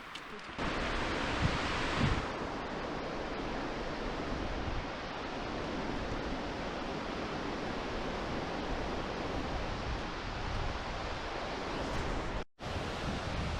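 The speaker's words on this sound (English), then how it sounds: "So here we are at another waterfall that you get to hike behind" Waterfall seen from a hiking trail that passes behind the falling water, a loud steady rushing roar that fills the whole stretch without break, with a short dropout near the end.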